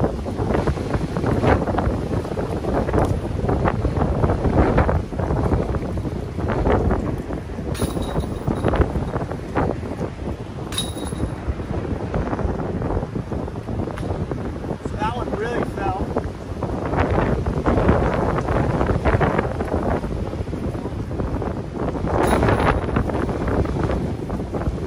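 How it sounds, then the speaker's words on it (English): Strong gusty wind buffets the microphone continuously on an outdoor disc golf course, a loud roar that stays throughout with no break. "That's going to show you how much the wind is really dropping."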